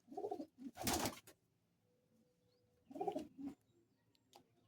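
Madrasi pigeons in a loft give two distinct bursts of throaty cooing, the first longer and louder, the second shorter a couple of seconds later, with near-silence between and no voices.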